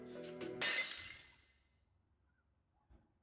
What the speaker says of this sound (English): Generic glass noise.